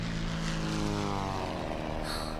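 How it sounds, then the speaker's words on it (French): Small orange three-engine propeller airplane flying along a coast, a steady droning engine hum with layered harmonic tones holding loud and even throughout, no talking. "très loin, je vois un petit avion orange. Il suit la côte et vient vers nous. Il a 3 moteurs"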